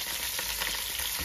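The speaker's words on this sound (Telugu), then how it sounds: "బఠానీ గింజలు టపటపా మని తేలుతూ ఉంటాయి." Green peas and garlic pieces fry in a pan with a loud, steady, continuous sizzle and no voices.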